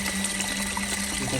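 Portable folding mini washing machine running with water inside, giving a steady, close churning and sloshing drone with a constant motor hum, uniform in level throughout.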